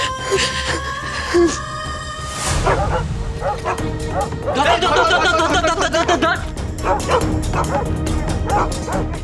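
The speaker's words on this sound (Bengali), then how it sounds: "এই দেখ দেখ, কুকুরগুলো কেমন লেজ গুটিয়ে ভয়ে ছুটছে।" Several dogs yip, bark and whimper in a frantic, overlapping chorus, close and loud, with people talking over them throughout.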